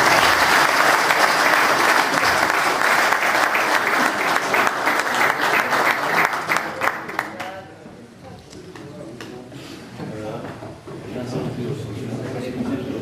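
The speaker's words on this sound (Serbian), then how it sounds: "Molim vas samo jedan aplauz za međunarodnog sudiju." Dense, loud applause from an audience at a club assembly in Donji Vakuf honours an international referee, sustained for about seven seconds before fading into quieter room noise with some talk.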